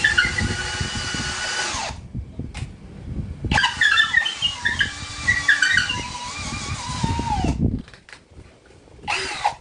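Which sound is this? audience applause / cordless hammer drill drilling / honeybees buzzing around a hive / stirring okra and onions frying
cordless hammer drill drilling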